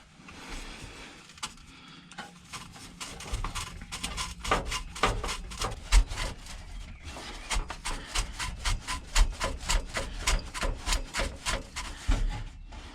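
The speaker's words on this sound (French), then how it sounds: "il ne me reste plus qu'à serrer ce collier là" Hand tool tightening an exhaust clamp on the new stainless Max'inox exhaust line of a Volkswagen Golf 6 GTI, steady rapid ratcheting clicks near and fairly loud, with short pauses between bursts.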